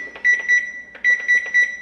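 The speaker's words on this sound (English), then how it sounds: "Set my timer here" Electronic beeps from a kitchen timer being set, in two quick bursts, each a short run of about three bright tones, with faint handling noise between them.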